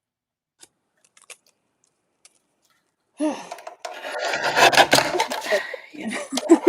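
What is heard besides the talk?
cutting a tiny sliver out of a paper card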